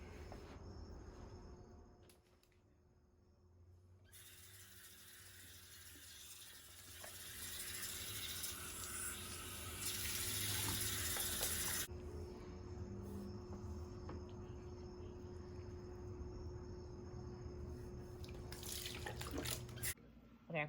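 Tap water runs steadily for about twenty seconds while a wig is rinsed, holding a constant hiss with a brighter, louder stretch in the middle, close to the microphone and with no talking.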